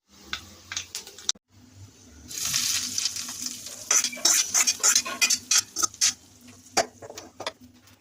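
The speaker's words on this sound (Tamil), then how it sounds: "கடுகு ஜீரகம் தாளிச்சுக்கலாம்" Mustard seeds and cumin are tempered in hot oil while being stirred, and a crackling sizzle rises with quick popping bursts and clinks of a spoon against the pan. Close by, with a short silent gap near the start.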